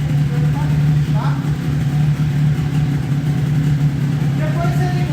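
A 30 HP outboard boat motor runs steadily at idle, a constant low drone with a strong hum throughout, close and loud, while a person talks over it.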